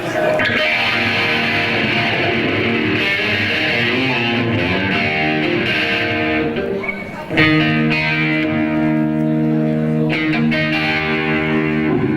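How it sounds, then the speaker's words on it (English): Electric guitar chords with a sweeping phaser effect, swirling and shifting continuously, loud and close, briefly dipping midway before ringing on. "I'm using a phaser pedal, which gives a nice kind of like 60s hippie"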